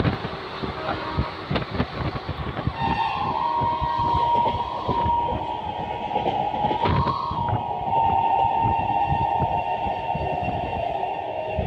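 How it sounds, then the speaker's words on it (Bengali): The 12347 Howrah–Rampurhat Shahid Express runs through Shaktigarh without stopping, a loud rattling rumble of wheels and carriages with a sustained horn-like tone rising partway and holding to the end. "আর এখন আমাদের ট্রেন স্কিপ করছে বন্ধুরা শক্তিগড়"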